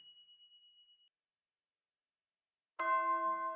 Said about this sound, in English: The bell rings, announcing the start of the homeroom.